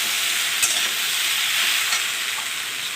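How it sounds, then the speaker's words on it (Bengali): Pieces of raw green banana and other vegetables fry in a home kitchen pan for a vegetarian curry, giving a steady, close hiss and sizzle with faint stirring scrapes and no voices. "আমি একটু ভালো করে সবজিটাকে ভেজে নেব"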